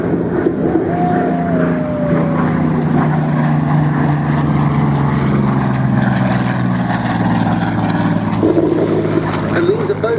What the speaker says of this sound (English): we'll look out now to the left are 2 Curtiss fighters, the Hawk 75A1 and the P-40F Warhawk